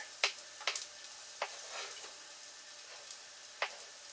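Vegetables sautéing in a pan for a Moroccan spiced chickpea soup: a quiet, faint sizzle broken by a few sparse, sharp clicks and scrapes of stirring, with no voices.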